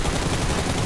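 Continuous full-auto gunfire from a shooter video game during recoil-control spray practice, a loud, steady stream of close shots with no talking.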